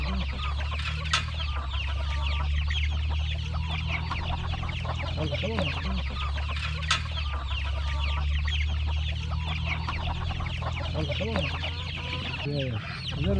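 Flock of hens on a family farm clucking steadily and densely throughout, near and fairly loud, with occasional rooster-like calls and brief human voices in the background.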